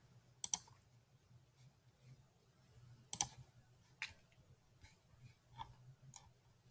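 Computer mouse clicking on a blog post link, a few sharp isolated clicks spaced several seconds apart against a quiet room hum.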